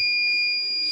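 A buzzer on a Microtek inverter's SMD circuit board sounds a steady, loud high-pitched electronic tone that holds unbroken for the whole moment, alone with no voices.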